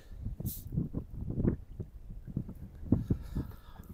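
Gusty wind buffets the microphone in uneven low rumbling bursts, with occasional knocks and splashes like a small boat on water, in near-freezing cold on Pien-Saimaa lake during a snowstorm.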